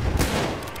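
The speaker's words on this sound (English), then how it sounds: "Enemy machine gun over there!" An enemy machine gun in Battlefield 1 fires a short, close, punchy burst of a few rapid shots, lasting under a second with no talk over it.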